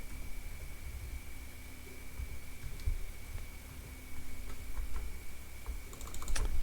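Soft keyboard typing ticks along steadily over a constant low hum and background hiss, with a brief flurry of sharper clicks near the end.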